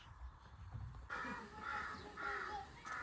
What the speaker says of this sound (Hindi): यहाँ के कौवों की आवाज़ अलग है